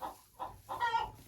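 A white hen in a coop gives a few soft, quiet clucks in short bursts, close by, with no talk over them.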